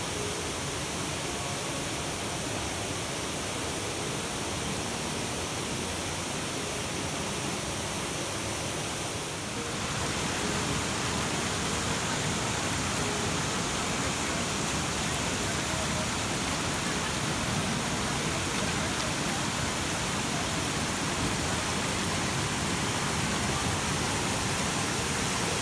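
Steady broadband rush of Long Creek Falls and its creek near Greenville, South Carolina, water pouring continuously and fairly close, filling the whole stretch with an even roar and no voices.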